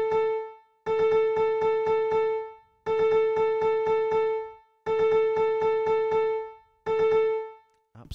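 Melodic motif programmed in Ableton played back without any key change: a bright synth tone repeats a short rhythmic figure in four phrases with gaps, clean and alone.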